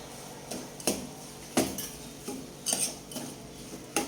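A spoon scrapes and clinks against a pot while grated ginger is stirred into an amla moravala mixture, giving several distinct knocks and scrapes spread unevenly over a few seconds, fairly close and with no voices.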